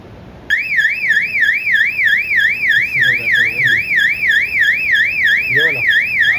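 A fire alarm sounder under test switches on abruptly and wails loudly in a rapid, rising-and-falling warble, continuous and close, while people talk faintly underneath.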